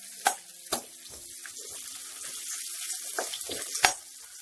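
Onions cooked lightly over low heat in a pan for matar paneer, a faint steady sizzle punctuated by several sharp spoon scrapes and taps, close by.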